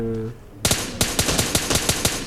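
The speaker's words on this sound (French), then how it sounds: "Oh, Boum, le headshot." Rapid gunfire in the video game PUBG, a string of about nine sharp, loud shots at a steady rhythm after a brief low hum, ending in a headshot.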